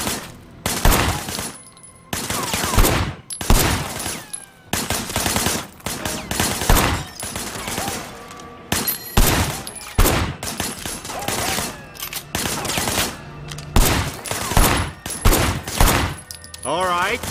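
Gunfire bursts in the open-world action game Sleeping Dogs during a shootout at a barricade, with repeated loud volleys and rapid automatic rattles separated by short pauses, and voices mixed in among the shots.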